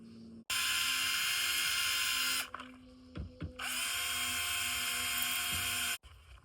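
A power drill mounts a twisted manzanita log lamp onto a plywood stand, whining loudly in two long bursts split by a short pause with a few knocks, then stopping abruptly.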